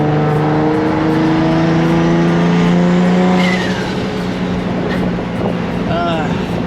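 A Ram TRX truck engine revs loudly nearby, a sustained rising roar that drops off partway through, followed by a brief tire squeal with voices talking over it.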